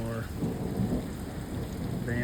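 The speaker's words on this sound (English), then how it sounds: "Van's covered in hail." Hailstorm with thunder pounding a van roof and windshield, a dense steady roar of pelting ice with deep rumbling underneath, loud and close throughout, with no voices.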